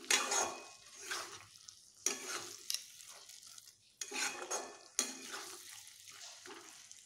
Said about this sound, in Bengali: এইভাবে আমি একটু ভালোভাবে সবগুলোকে কষিয়ে নেব।